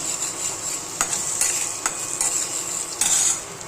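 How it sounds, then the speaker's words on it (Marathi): Masala spices roast in oil on a low flame for a prawn curry. A soft, steady sizzle runs under a few distinct spoon scrapes and stirs against the pan. "मसाला पण चांगला भाजून द्यायचा कमी गॅसवर"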